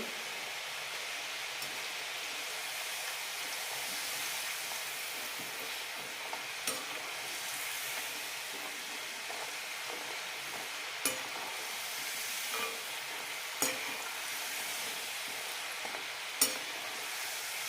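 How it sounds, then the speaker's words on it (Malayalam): Ring murukku deep-fry in hot oil over a medium flame, a continuous, even crackling sizzle with occasional sharper pops near the end. "മീഡിയം ഫ്ലെയിമിലിട്ട് വറുത്തെടുക്കാം"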